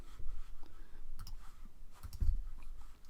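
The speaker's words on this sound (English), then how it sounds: "So I'm going to click on that. Right click." A few soft computer mouse clicks, including a right click, sound close by over quiet room tone, with a slightly stronger click near the end.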